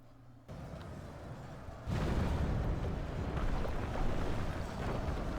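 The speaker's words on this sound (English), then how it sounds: "There's the explosion." In the Third Age Reforged game, a blast breaches the wall of Helm's Deep, a sudden deep boom that swells into a sustained low rumble and roar of battle.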